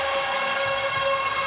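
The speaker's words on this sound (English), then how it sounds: "the siren to the start of power 5." A siren sounds at a Suncorp Super Netball match between the Giants and the Firebirds, signalling the start of the power five period. It is a loud, steady, sustained tone that holds for the whole moment with no talk over it.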